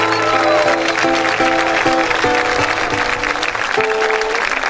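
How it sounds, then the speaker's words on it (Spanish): Audience applause at a live folk music show, a dense, steady wash of clapping heard beneath held musical tones that carry on throughout. "che, arriba el aplauso"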